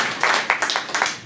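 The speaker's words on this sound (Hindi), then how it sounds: "आपके लिए एक बार जोरदार तालियां होनी चाहिए" A seated audience at a farming product presentation claps briefly, a quick run of sharp, close handclaps with no voices over them.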